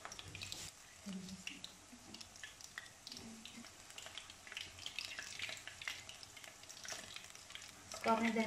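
Capsicum chips fry in a pan over medium heat, giving a steady crackling sizzle with scraping stir sounds and brief bursts, while a faint voice murmurs in the background.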